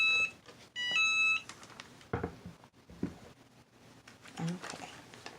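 An EasyPress heat press timer, used while layering heat-transfer vinyl, gives a quick run of high electronic beeps at the start, followed by quieter handling and rustling sounds with some talk in the background.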